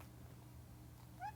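A single short cat meow rises near the end, faint and somewhat distant, over a quiet steady indoor hum.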